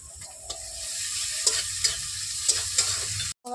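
Prawns fry in hot oil as ginger garlic paste goes in. A close, steady sizzle runs throughout, with several sharp clinks of stirring and no talk.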